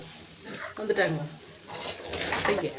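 Tomato sandhagai stirred in a pan, with a spatula clinking and scraping against metal over a light sizzle, a few brief bursts of movement close by.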